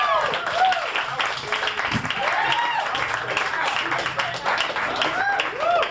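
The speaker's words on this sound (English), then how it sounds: "Don't applaud too long." Comedy club audience applauding at the Comedy Cellar, a steady wash of clapping and cheering that fills the whole stretch, with bright whoops and voices rising over the crowd at moderate distance.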